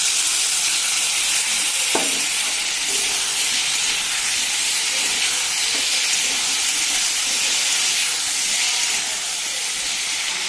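Mustard paste, green chilli and two garlic cloves sizzle in hot oil with pieces of hilsa fish, a steady loud frying hiss running the whole time with a few soft stirring knocks near the start.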